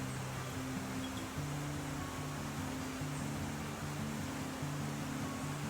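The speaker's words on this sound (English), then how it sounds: "I do like the sound of running water" A stream runs steadily during a rainy autumn walk, giving a soft, even wash of flowing water with a low hum underneath and no voices.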